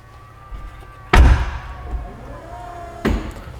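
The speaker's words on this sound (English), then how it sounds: "it closes the door" The door of a Koenigsegg Jesko closes, triggered by a button, giving a solid, close thud, followed a couple of seconds later by a second, softer thump.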